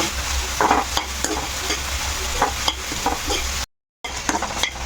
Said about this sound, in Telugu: ఇప్పుడు ఇవన్నీ కూడా వేసి ఇందులో అన్నీ వేయించుకున్నాం